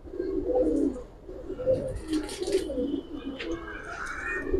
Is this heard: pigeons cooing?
yes